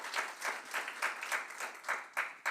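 Audience applause following a talk at a clinical diagnostics AI conference: steady, moderately faint clapping from a group, with a few louder bursts near the end and no talk.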